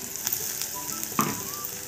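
Green chilies, coarsely ground in a mixer, and half a spoon of cumin sizzle in hot oil with a steady, close frying hiss and a faint stirring clink.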